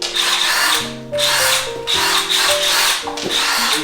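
Loud, close power drill whirring in bursts, its motor pitch rising and falling with short pauses between runs.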